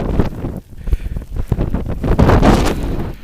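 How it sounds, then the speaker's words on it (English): Strong, gusting blizzard wind in snowy Boston buffets the microphone in a loud, roaring rush that swells and dips over a few seconds. "Okay, there's the wind. I take it all back. It's windy."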